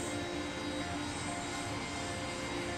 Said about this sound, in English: It's great to see this aircraft finally arriving.